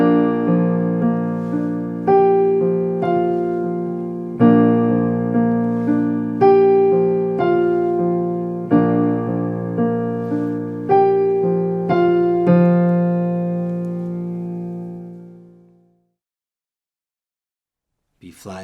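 Solo piano plays the opening three measures of a song, slow chords and a left-hand bass line ringing clearly in an even, stately rhythm, then decaying into silence near the end.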